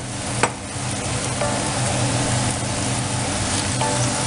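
Choy sum, prawns and tofu stir-frying in a hot pan, a steady broadband sizzle that holds for the whole span with a brief clatter near the start.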